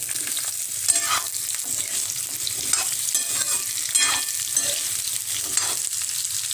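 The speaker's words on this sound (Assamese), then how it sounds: "এয়া এতিয়া মোৰ তেল গৰম হৈ গৈছে আৰু এতিয়া মই আলু আৰু পটলখিনি ফ্ৰাই কৰি ল'ম।" Potatoes and pointed gourd frying in hot mustard oil, a steady loud sizzle with scraping stir strokes roughly every second, close up with no talking.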